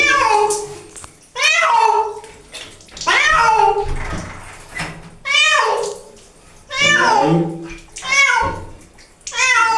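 A wet cat meows repeatedly after a bath, drawn-out loud cries coming in a steady series close by, with a person's voice faintly present in between.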